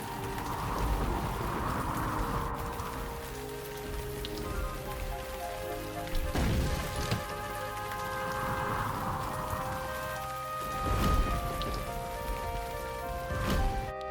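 Hard rain pounds steadily on shed roofs, a dense continuous patter with distant thunder rolling in several times.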